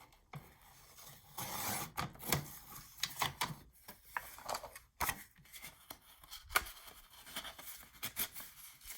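A paper trimmer blade slices paper for a handmade envelope album, making a string of short dry rasping and scraping strokes, fairly close and quiet, with small clicks between passes.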